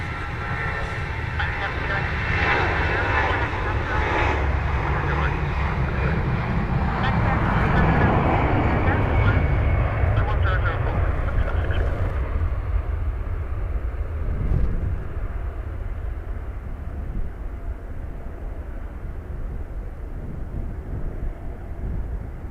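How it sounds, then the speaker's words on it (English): An Aer Lingus airliner bound for Marrakesh rolls for takeoff at Dublin Airport in blustery crosswinds, a sustained broad jet roar heard from a distance that swells and then slowly fades, with gusting wind buffeting the microphone. "Aer Lingus to Marrakesh rolling."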